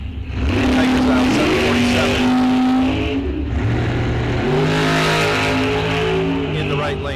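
Bracket drag race cars at Rock Falls Raceway, one on a throttle stop, roaring down the strip with a sustained loud engine drone that shifts pitch as they accelerate, beneath continuous announcer commentary.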